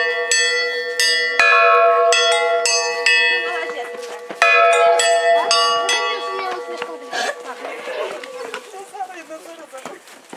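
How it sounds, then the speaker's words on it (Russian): A church bell rings loud and close with several ringing strikes over the first half, the ringing fading toward the end under a mix of speech and background noise. "Сейчас будет колокол бить."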